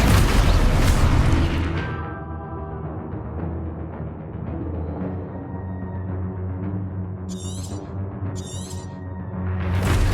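Spell explosions in a wizard-themed video game, with loud booming blasts at the start and end and a rumbling, crackling tail between them, plus a couple of brief chirping effects.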